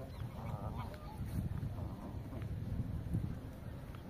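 Canada goose honks sound a few times amid wind buffeting the microphone in a park on a rainy day, with faint distant calls under the rumble.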